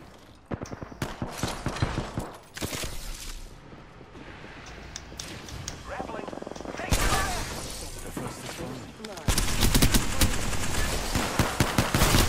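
Rapid gunfire in an Apex Legends battle, dense bursts of automatic weapon shots and impacts that grow louder and more continuous toward the end, with a voice briefly talking over the fighting.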